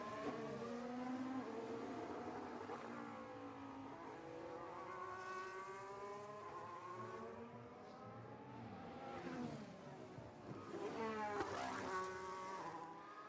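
A Formula One car on the Hungaroring at the 2024 Hungarian Grand Prix practice, on a flying lap with soft tyres, its high engine whine rising and falling through gear changes and corners, clear and continuous.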